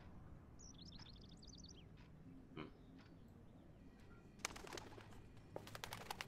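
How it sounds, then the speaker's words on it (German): Bird chirps from the Life Is Strange video game: a quick series of high twittering notes near the start, then sparser calls and scattered clicks over quiet ambient game sound. "Hallo Vogel."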